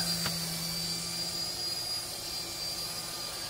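A KY202 Black Bee toy helicopter hovers after a one-key takeoff, giving a steady, high, thin motor whine with a faint low hum and a single brief click near the start. The sound is close and continuous, with no talk.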